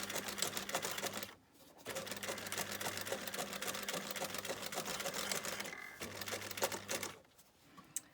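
A domestic sewing machine stitches the sides of a fabric pencil pouch, a rapid, even mechanical clatter heard close up that stops briefly twice before resuming, with no talking.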